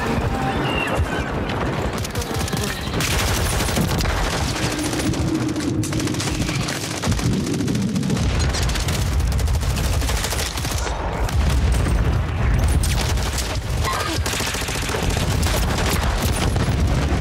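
Sustained gunfire in the video game Call of Duty, dense bursts of rapid automatic shots and heavy booms running without pause, loud and close, with a voice briefly heard under the shooting.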